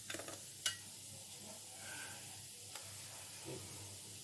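Onions dropped into a pan of potatoes frying in oil, followed by soft stirring and a low, steady sizzle in a home kitchen, quiet and close with a few sharp clinks at the start.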